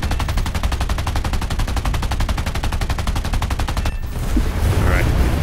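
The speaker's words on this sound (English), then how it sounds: "we're definitely getting shot at" Enemy plane guns in War Thunder air combat, a loud, steady rapid rattle of machine-gun fire at an even rhythm that cuts off abruptly, leaving engine drone with faint talk.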